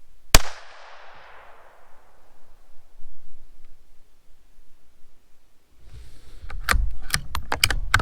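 A Savage Arms 93R17 rifle fires one sharp, close shot that rings and fades over a few seconds. After a quiet stretch come quick metallic clicks of the action being worked.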